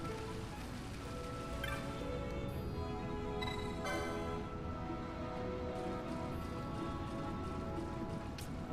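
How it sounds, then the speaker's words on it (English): Rain falling in the video game Final Fantasy XII, a constant soft patter and hiss of drops on surfaces with a few brief brighter ticks, steady and fairly quiet throughout. "What the hell was that noise? I think it's rain."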